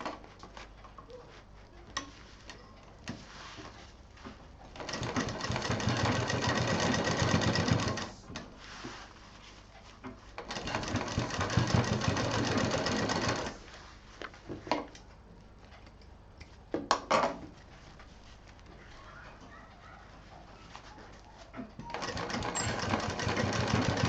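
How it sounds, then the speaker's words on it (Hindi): A sewing machine stitches lace onto a homemade sling bag, running in loud steady bursts of rapid whirring separated by quieter pauses with handling noises. "इस लेस को यहाँ पलट के सिल देंगे"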